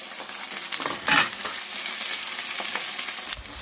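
Cauliflower pieces hit a pan of onions already frying, a steady hissing sizzle close by with a brief burst of louder crackle as the florets go in, then a settled fry.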